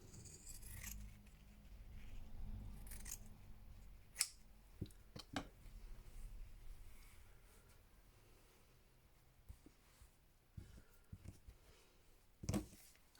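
Scissors trim scraps of clothing fabric in quiet, scattered snips and faint rustles, with a few sharper clicks close by and long gaps between cuts.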